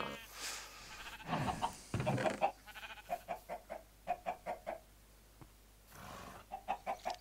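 Chickens in Minecraft (Sky Factory 3 modpack) clucking in a quick run of short, bright repeated calls, with a few louder rustling game sounds earlier and no talk over them.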